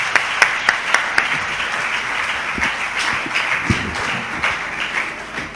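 An audience claps steadily at a church youth gathering, a thick wash of hand claps with a few sharp individual claps standing out early, sustained at a fairly even level throughout.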